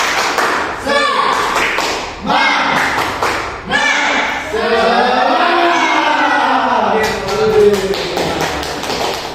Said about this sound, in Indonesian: Ayo kita ulang lagi. Tepuk semangat